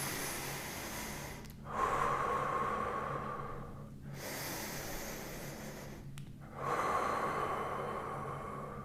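Slow, deep breaths during a handstand hold, each long inhale and exhale close and loud through the nose, coming in a steady rhythm with brief pauses between breaths.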